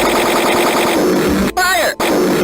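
Rapid bursts of gunfire in an animated CCTV-style horror scene with yellow and green truck-eater monsters, loud and continuous, with shouting voices over the shots.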